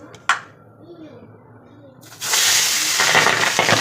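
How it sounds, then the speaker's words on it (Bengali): Pabda fish dropped into hot, smoking oil in a kadai burst into a loud, steady frying hiss and spatter after a quiet lead-in with a brief sharp sound. "পাবদা মাছ তো ফাটে, ওরে বাবা, মানে নেই, দেখেছো? জোরে ফেটে উঠেছে।"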